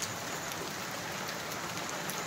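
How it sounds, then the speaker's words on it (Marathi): Heavy monsoon rain falls on a morning in Konkan, a dense, even hiss of drops pattering on surfaces that continues without pause and with no voices. "सो अशी ही कोकणातली आमची सकाळ आणि खूप सुंदर असा पाऊस."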